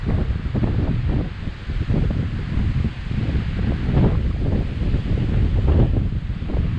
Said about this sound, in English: Getting a little windy up here.